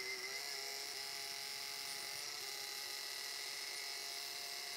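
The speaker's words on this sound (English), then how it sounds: "That tiny little bandsaw from Aldi did a good job." A small Aldi bandsaw cuts a wooden circle for a lazy Susan, its blade holding a steady, high, even whine at moderate distance throughout without voices.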